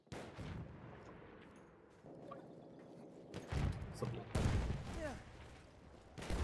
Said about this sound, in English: these are some very heavy guns